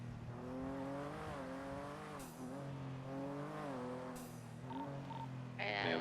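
A loud car engine in the GTA NoPixel game roars and shifts through revs in repeated rising and falling sweeps, with brief sharp clicks and bursts layered over the steady drone.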